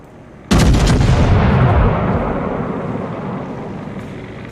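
A World of Warships battleship main-gun salvo fires once with a sudden loud boom, followed by a long rolling rumble that slowly fades out.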